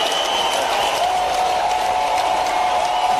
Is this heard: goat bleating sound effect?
no